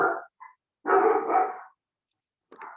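A dog barks several times in close, loud bursts, with short gaps between them and a final bark near the end.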